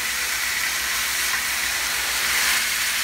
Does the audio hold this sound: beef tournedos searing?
yes